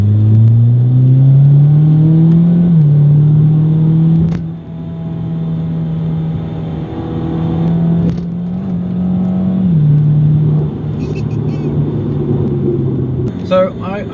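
A Jaguar XE driven hard through bends on the road, with its engine droning loud and steady from inside the cabin, pitch rising and dipping as it accelerates and eases, with a few clicks near the end.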